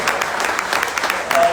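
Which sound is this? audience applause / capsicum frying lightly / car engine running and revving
audience applause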